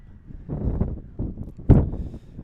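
Gusts of wind buffeting the microphone outdoors at a warm, very windy sports game, low rumbling bursts that rise and fall several times with one sharper blast near the end.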